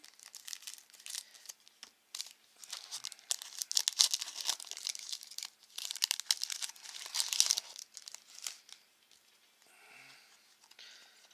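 Panini Adrenalyn XL Ligue 1 football card packet torn open by hand, with close crinkling and tearing of the foil wrapper in bursts, fading to quieter rustling at the end.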